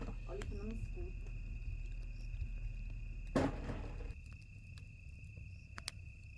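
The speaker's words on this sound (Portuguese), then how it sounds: "Olha o barulho dos grilos." Crickets chirp at night on a rural property beside a bonfire, a faint steady trill running under low background noise and brief voices, with a sharp crackle partway through.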